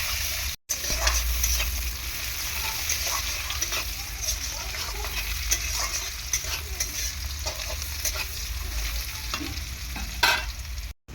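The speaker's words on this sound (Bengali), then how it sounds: "কুচিয়ে রাখা পেঁয়াজটা দিয়ে দিলাম, দিয়ে ভালো করে ভেজে নেবো প্রথমে।" Chopped onion fries with cumin seeds in hot oil, a continuous loud sizzle broken by stirring scrapes and occasional splattering pops, with a low rumble underneath.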